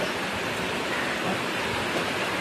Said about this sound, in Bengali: চলে এলো বৃষ্টি। বাবা বৃষ্টি বলে কথা, সে বিশাল বৃষ্টি।